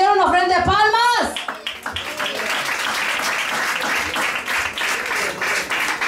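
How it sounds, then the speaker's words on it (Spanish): A church congregation breaks into sustained applause right after a sung passage ends, the clapping dense and steady as the last voice fades out at the start. "una ofrenda de palmas"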